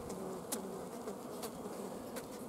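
Honey bees buzz at the hive in a continuous, soft, close hum, with a few sharper passes as individual bees fly by; no one speaks.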